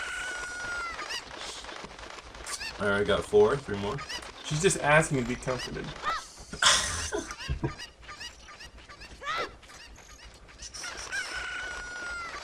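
Chickens in Zelda: Ocarina of Time crow and cluck in loud repeated game calls, mixed with someone talking over them.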